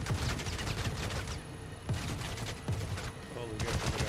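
Video game gunfire aimed at the player: sharp, loud shots that crack out in separate bursts a second or so apart over a constant noisy background, with voices mixed in.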